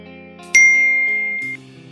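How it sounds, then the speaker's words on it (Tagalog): A single bright ding rings out over quiet background music, sustaining for about a second before cutting off. "pindutin ang notification bell"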